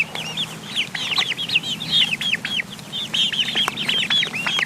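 Chickens cluck steadily while pecking at collard greens, a busy overlapping chorus of short, close clucks and calls over a faint low background hum.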